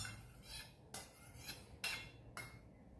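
A spoon stirs homemade curd into bajra flour in a bowl, giving faint soft scraping with a few sharper clinks of metal against the bowl at irregular intervals; no one talks.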